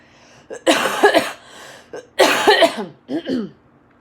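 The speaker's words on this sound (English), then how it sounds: "Excuse my coughs." A person coughs hard twice, close up, each a burst of harsh hacking, followed by a short throat-clearing cough.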